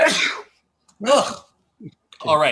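Two loud, sharp sneezes burst out close by at a city council meeting, separated by a short silence, with a person speaking briefly afterward.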